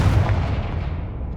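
A Confringo spell explodes in the Hogwarts Legacy video game with a single deep, booming blast that rumbles and fades over about a second.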